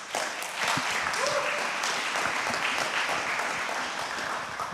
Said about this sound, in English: another round of applause for our CIOs from these very exciting companies